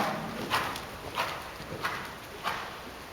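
A horse canters in a riding lesson, its hoofbeats landing as a steady, fairly close rhythmic thud roughly every half second over a faint background hiss.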